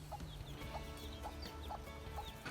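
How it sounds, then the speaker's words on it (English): A content hen gives soft, low clucks, repeated roughly every half second over a quiet background hum, faint and close. "A hen that is content will make soft clucking sounds and will often coo to her chicks."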